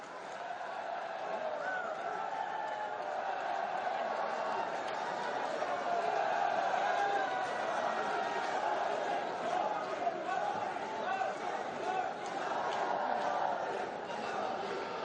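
A large crowd at a public event with Prime Minister Narendra Modi in Chhattisgarh produces a continuous roar of cheering and clapping that stays loud and steady throughout.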